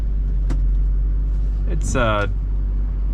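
A 2008 Chevrolet 3500 pickup with a 6.6-liter Duramax diesel and Allison automatic transmission drives along, its steady low diesel rumble running throughout while someone talks over it.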